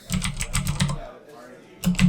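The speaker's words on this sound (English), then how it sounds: "clacking on his keyboard. Clickety clacky." Rapid clacking keystrokes on a computer keyboard come in a quick burst, pause briefly, then resume, close and clear with no talk over them.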